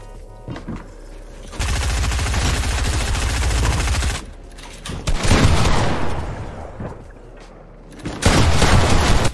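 Gunfire in the video game Fortnite comes in long, loud, sustained bursts of rapid shots, broken by short pauses, with a final heavy burst near the end.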